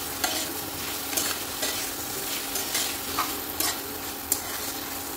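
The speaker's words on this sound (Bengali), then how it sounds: "এটাকে ভালো করে গরম তেলের মধ্যে নাড়াচাড়া করে কষে নেব একদম সুন্দর মতো করে" Cut potatoes and spices being stir-fried in hot oil for a Bengali fish curry, a steady moderate sizzle with light irregular scraping and clinks of a spoon, no voices.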